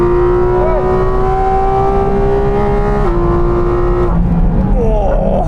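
A Porsche GT4 RS at full throttle on a race circuit, its engine note loud and continuous, pitch climbing through the gears with brief shifts and tyre and wind roar underneath.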